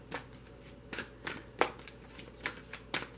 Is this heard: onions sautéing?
no